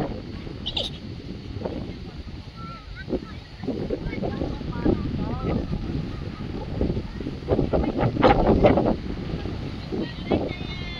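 Gusty wind buffets the microphone in rough low rumbles that swell and fade, with a brief voice heard faintly in the mix.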